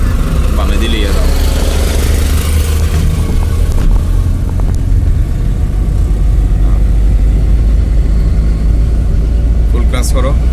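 A car engine runs steady during a driving lesson as the clutch is let out, a loud continuous low rumble and drone close by, with people talking over it.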